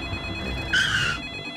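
A cartoon telephone rings once in a Peppa Pig episode: a short, bright electronic ring of about half a second over a soft background.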